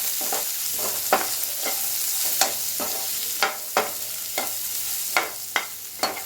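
Chopped onions fry with a little salt in a pan for a prawn roast, a steady sizzle broken by regular scraping stirs about every half second, close and loud with no speech.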